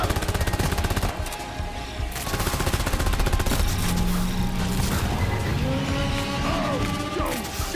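Rapid bursts of video game gunfire, dense automatic shots and crashes layered over game effects, loud and continuous, with faint voice lines.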